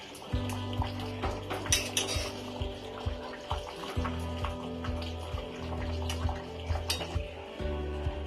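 A utensil stirring Bengali-style mutton curry in a metal pot after garam masala powder goes in, with repeated scraping clinks and knocks in an irregular rhythm, close and fairly quiet over a steady low hum.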